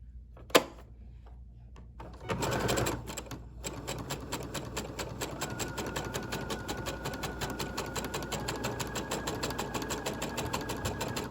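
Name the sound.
sewing machine stitching a zigzag on fabric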